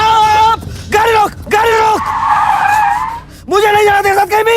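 A car skids with long, wavering tire squeals in a comedy film scene, several loud shrieking bursts broken by short gaps, with a sustained squeal in the middle.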